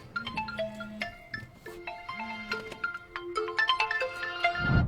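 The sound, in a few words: Oppo F29 Pro 5G phone ringing in an ice-filled box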